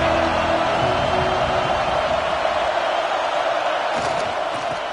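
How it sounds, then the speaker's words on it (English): A large football stadium crowd roars with a dense, sustained wash of cheering and noise that stays loud and steady throughout. "This crowd ready to make its presence known."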